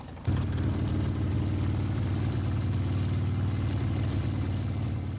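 A Harley-Davidson motorcycle engine, with a dog riding on it, idles with a steady low rumble, starting abruptly and holding a constant, close, even throb throughout.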